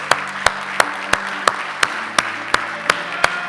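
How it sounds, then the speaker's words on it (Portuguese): A church congregation claps in unison, sharp evenly spaced beats about three per second over a faint murmur of the room. "Estamos aplaudindo Cristo, o Filho do Deus vivo."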